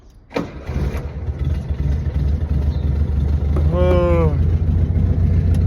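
A carbureted car engine cranks and catches, then settles into a steady, close idle with a rumbling low tone.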